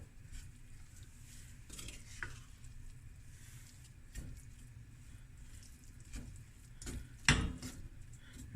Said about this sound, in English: Stir and cook for about until you see it's sticky and forms nice little sticky balls